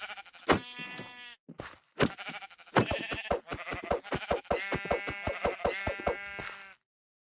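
Sheep bleating in the Minecraft video game, a run of loud, close, repeated bleats in quick bursts with short gaps, the sound stopping abruptly at the end.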